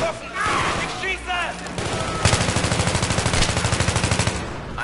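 Sustained automatic gunfire in the Battlefield 3 video game, a steady rapid stream of evenly spaced shots in the second half, loud and close, following a stretch of mixed game noise and voice.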